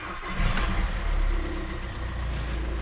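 A VW Caddy van's engine drones low as it pulls away and drives off, the rumble swelling briefly early on and then holding a steady, moderately loud hum.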